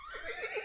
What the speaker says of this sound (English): And then I hear horses neighing